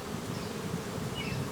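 A steady, continuous buzz of many honeybees humming close by, with no pauses and no talking.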